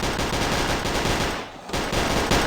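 Dense, sustained automatic gunfire in the zombie shooter KUBOOM, loud and continuous with a brief dip midway before the shooting resumes.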